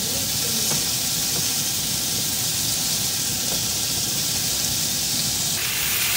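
Mixed bell peppers and leek onion sizzling in a pan, a steady, close hiss of frying throughout with a few faint kitchen clinks.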